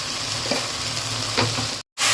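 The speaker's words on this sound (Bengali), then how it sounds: "এবার এটাকে ভালো করে ভাজবো।" Taro greens and shrimp frying in a pan with a steady close sizzle and occasional stirring scrapes, ending in a brief cut to silence before the sizzle returns.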